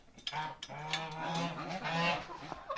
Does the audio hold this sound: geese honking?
yes